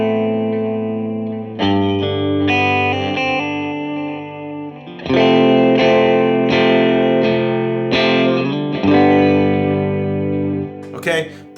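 Electric guitar plays sustained chords and single notes through a Line 6 HX Stomp and DD500 quarter-note delay, each trailing into echoing repeats and a lush plate reverb tail.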